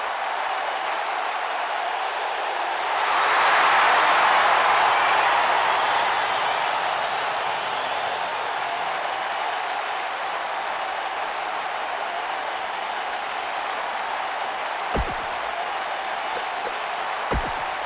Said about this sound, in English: The crowd here tonight certainly seemed to appreciate the efforts.